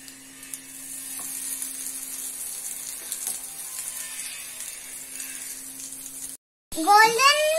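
Egg-dipped bread for French toast frying in a pan, a steady soft sizzle running for several seconds before a short break, then livelier crackling with a voice over it.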